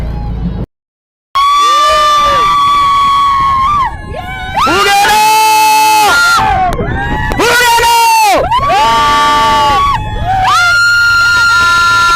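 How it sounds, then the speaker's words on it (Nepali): Friends shout, scream and cheer loudly from a boat on Bharatpur Lake, their excited voices rising and falling in bursts after a brief silence, with some talk mixed in. "हाम्रो साथीहरू यहाँ कराउँदै हुनुहुन्छ"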